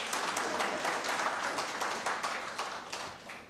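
A crowd applauds with dense, steady clapping that holds at a moderate level and slowly tapers off toward the end.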